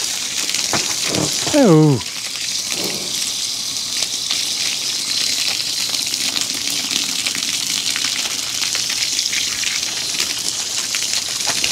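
Water sprays from a hose onto Baron, a draft horse, as a steady hissing gush that runs through the whole stretch, with a brief exclamation from a voice near the start.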